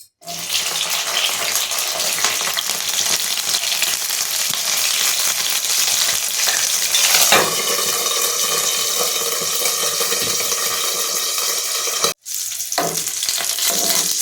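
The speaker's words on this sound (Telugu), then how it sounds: "ఇప్పుడు మిరపకాయలు వేపించుకుందాము" Green chillies fry in hot oil, a loud, continuous hissing sizzle that runs steadily for several seconds, cuts out abruptly near the end, then resumes, with no voices.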